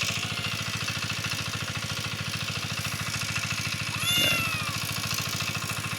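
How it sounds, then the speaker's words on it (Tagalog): A cat on a Philippine onion farm gives one short, rising meow over a steady, close mechanical idling hum that throbs evenly throughout. "Makulit na pusa."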